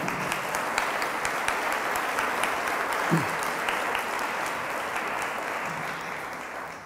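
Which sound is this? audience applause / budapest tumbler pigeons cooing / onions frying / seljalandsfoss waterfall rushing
audience applause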